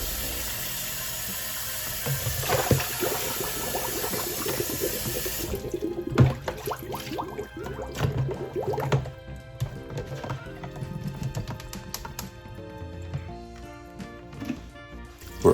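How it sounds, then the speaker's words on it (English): Tap water runs steadily into a sink while about three pounds of raw chicken hearts are washed for Filipino chicken bopis, a continuous splashing wash with brief clatter, close and alone without talk. "Wash them thoroughly until the water is clear."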